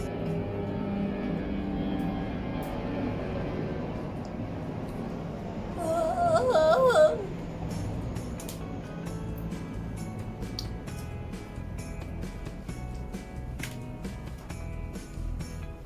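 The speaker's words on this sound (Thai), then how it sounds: "เสียงเครื่องบินนะคะ" An airplane passes overhead as a broad, steady rumble of engine noise, rising briefly midway and then settling, with no talk over it.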